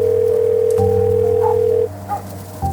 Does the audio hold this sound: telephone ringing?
yes